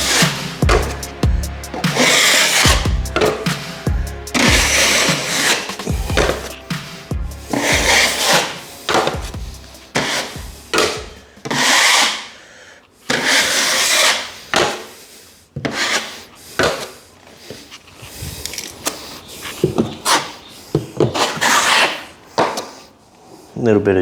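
A drywall blade scraping excess patching compound off a wall patch, repeated rasping strokes in bursts with short pauses, loud and close, with brief talk between strokes.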